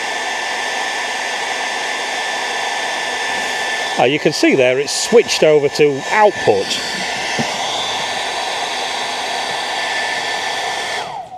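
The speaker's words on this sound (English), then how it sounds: "If I turn this onto its first low click, this hairdryer" A hairdryer on its low first setting, running off an AllPowers S2000 Pro solar generator, gives a steady, loud broadband whoosh. It continues unbroken while someone talks over it midway through.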